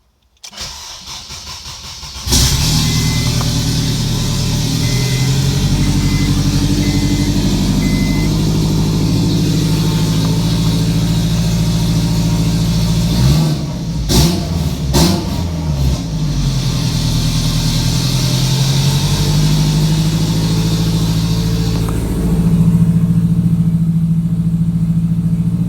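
A car engine cranks briefly, catches, and settles into a steady, loud idle that runs on unbroken, with a few clunks midway and a slight rev near the end.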